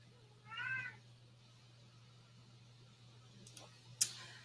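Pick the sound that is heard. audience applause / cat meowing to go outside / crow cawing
cat meowing to go outside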